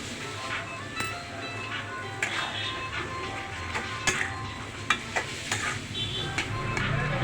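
Boiled, roughly mashed new potatoes land in a hot spiced pan for a potato and egg curry, sizzling steadily while a spatula scrapes and taps through it in irregular close strokes, no speech.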